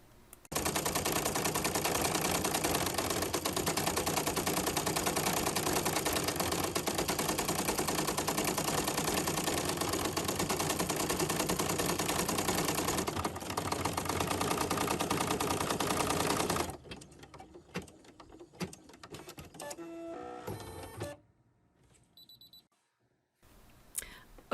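An embroidery machine stitches a tooth fairy pocket in the hoop, a loud continuous rapid chattering drone that runs for most of the stretch, then stops, leaving quieter handling clicks and brief rustles near by.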